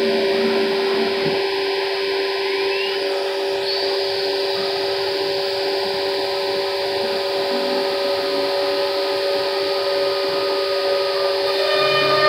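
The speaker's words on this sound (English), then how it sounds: "so now the CNC is working" A Laguna Smart Shop II CNC machine runs with a loud, steady, whining hum and strong tonal drone, unbroken and close throughout.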